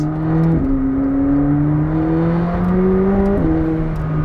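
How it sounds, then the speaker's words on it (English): McLaren 765LT engine droning loud and close, its pitch climbing steadily then dropping abruptly with each gear change, two quick shifts in a few seconds, no talking. "This one, downshift. There's a downshift."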